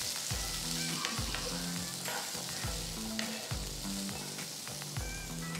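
Boiled peanuts are stirred through a hot tempering of mustard seeds, red chilli, curry leaves and asafoetida, a continuous close sizzle broken by regular scraping strokes of a spoon against the pan, with no voices.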